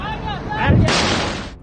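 A voice calls out in Persian, then a sudden roaring blast from an explosion at Iran's Shahid Rajaei port erupts and rumbles for under a second.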